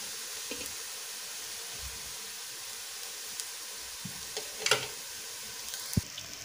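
Browned onions sizzle in oil in a pot during beef yakhni pulao preparation, a steady soft hiss with occasional spoon scrapes and clinks and no talking.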